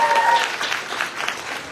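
A church congregation claps briefly for a member's son leaving to join the marines, a short burst of moderately loud applause that fades quickly.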